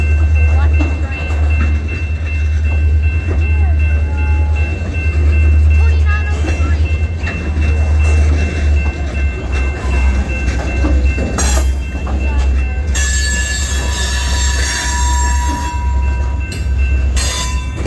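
A DeQueen and Eastern Railroad train with GP-type diesel locomotives rolls past at Valliant, Oklahoma, a loud, steady low diesel rumble with wheel squeal and sharp metallic screeches toward the end.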